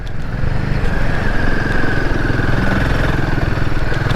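A Royal Enfield Himalayan 450 motorcycle engine running steadily on muddy back roads, a loud, continuous mid-pitched drone with a rapid pulsing beat throughout and no talk.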